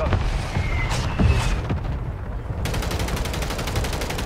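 Mortar shells land in Warzone, booming blasts mixed with rapid gunfire, then a steady pulsing rattle that carries on to the end.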